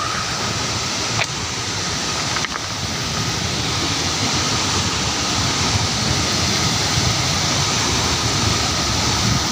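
Hidden Sonagandu waterfall in north Similipal, a steady, loud broadband roar of falling water that holds constant throughout with no voices.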